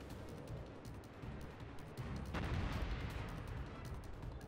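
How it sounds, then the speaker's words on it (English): Destroyer guns fire in World of Warships amid dense in-game battle noise, a low rumbling wash with repeated booming shots that grows heavier in the second half. "You see how slow the destroyer gun is."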